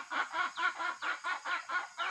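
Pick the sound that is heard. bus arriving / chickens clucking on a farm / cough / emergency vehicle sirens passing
chickens clucking on a farm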